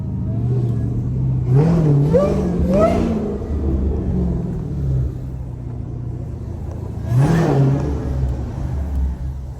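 A Dodge Hellcat drives through city streets in Birmingham with a deep rumbling engine, revving hard in a quick cluster of rising surges and then once more a few seconds later, close and loud.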